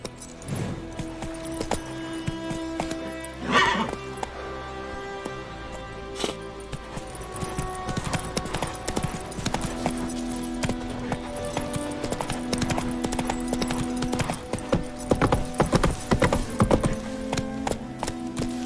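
Roach, a horse in The Witcher 3 video game, gallops with a steady rapid clip-clop of hooves, close and prominent over a constant music and ambience bed, with faint jangling tack.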